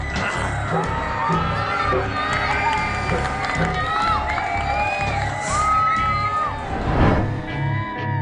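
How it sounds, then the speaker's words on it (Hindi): Crowd of spectators cheering and clapping at an outdoor Ramlila stage after the Ravan-slaying scene, a continuous loud roar of voices and whoops with busy clapping beneath, swelling near the end. "तालियों का ये शोर"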